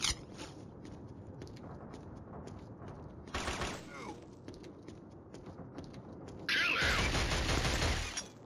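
Gunfire crackles in the Killzone shooter game, with scattered shots over a low battlefield rumble, a sharper burst of fire near the middle, and a loud, sustained fusillade of rapid shots toward the end.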